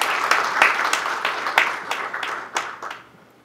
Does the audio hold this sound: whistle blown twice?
no